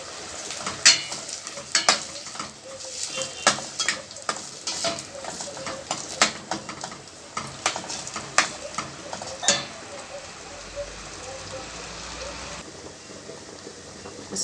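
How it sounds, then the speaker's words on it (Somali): Onions sizzle in oil in a pan while being stirred, with repeated sharp scraping and clinking strokes over a steady frying hiss, the stirring easing off toward the end. "haddana basasha ayaan saliid ku shubanaynaa"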